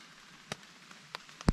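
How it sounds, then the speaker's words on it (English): Sparse heavy raindrops striking a tent during light rain in a subtropical rainforest camp: three or four distinct close taps, the last one loudest, over near silence. "it looks like this rain just set in, but it's just very, very, what do you call it, light rain, but heavy drops"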